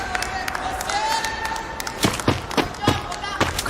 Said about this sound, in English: Crowd goes crazy down there out of that fight.